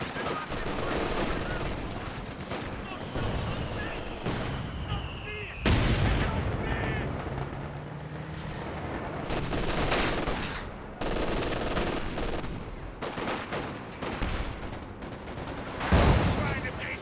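A Company of Heroes 2 battle plays out with machine gun bursts, mortar and artillery blasts popping at intervals, and a rapid crackle of gunfire. Voices talk intermittently over the combat.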